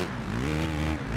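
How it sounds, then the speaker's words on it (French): Motorcycle engine from the MX GP motocross video game, revving steadily with shifting pitch over a short stretch, loud and continuous with no talking. "Les bruits de moto sont pas mal"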